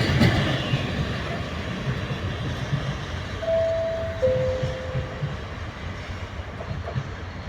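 A train arrives at platform 7 of Padova station, a steady rumble of rolling wagons heard up close with two short, thin squeals from the wheels partway through.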